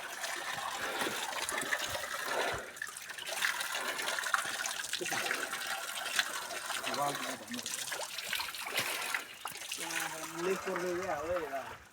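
Water runs steadily at a drinking and hand-washing spot on a hike up Uppardhangadi in Chitwan, a constant trickling gush heard near and beneath people chatting.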